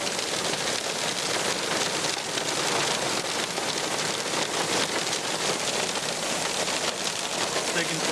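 Rain or hail falling on a vehicle during a summer storm chase near Douglas Provincial Park, Saskatchewan: a dense, even hiss of drops hammering steadily throughout, loud and unbroken.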